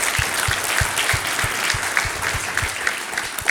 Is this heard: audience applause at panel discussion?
yes